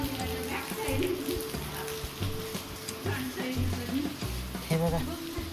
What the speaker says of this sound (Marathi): पाऊस चांगलाच वाढलाय